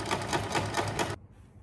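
A sewing machine stitches a skirt's side seam in rapid, even pulses for about a second, then stops abruptly, leaving only faint background hiss.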